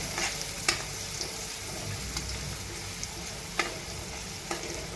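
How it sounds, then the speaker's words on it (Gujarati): Green chillies sauté in oil in a pan with fried garlic cloves for a Gujarati vaseti bhaji, giving a steady close sizzle with a few sharp clinks of stirring. "લીલા મરચાંને પણ આપણે 2 મિનિટ સુધી સાતળી લઈશું"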